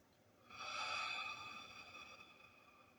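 A single deep breath taken close up during a beginners' yoga session, a soft airy exhale that swells and then slowly fades into quiet.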